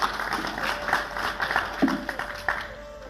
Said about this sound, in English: we request we give another round of applause to Marshal Jula and General Tadesse